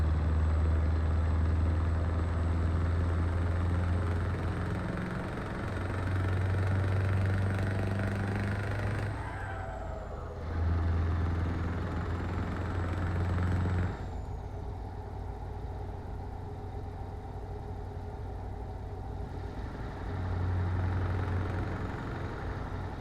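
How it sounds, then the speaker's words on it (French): A heavy truck's engine drones steadily while driving in Euro Truck Simulator 2 on a route from Rodez to Toulouse, its low rumble dipping briefly during gear changes and easing back to a softer run, with no talk. "Il roule bien ce camion là."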